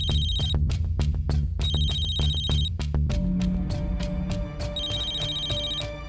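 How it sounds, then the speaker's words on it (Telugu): A telephone rings at night in repeated electronic bursts, a bright warbling tone alternating with rapid clicking pulses, loud and close, with no one speaking. "ఎంత రాత్రిపూట ఫోన్ ఎవరు చేస్తున్నారు?"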